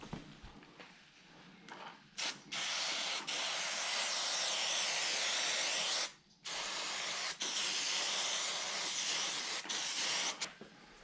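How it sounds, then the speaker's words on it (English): Long bursts of spray adhesive hiss from an aerosol can onto seat foam and cover, a few short pauses between them, then one sustained spray running for several seconds, close and loud. "I'm going to spray the adhesive on both surfaces while the cover is partially on the foam."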